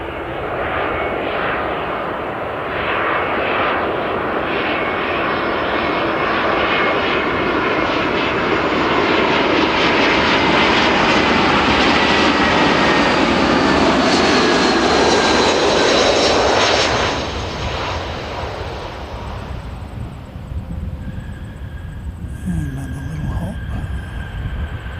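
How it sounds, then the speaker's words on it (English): An airliner on the Cairns flight arrives with a loud, broad engine roar that swells and holds steady for most of the pass, then drops away, leaving a quieter whine and distant background noise at the end. "here comes the Cairns flight"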